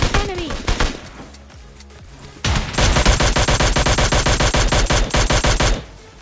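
Automatic gunfire in the PUBG Lite battle royale game: a few scattered shots, then a loud, sustained rapid burst of close-range fire lasting several seconds, with brief speech underneath.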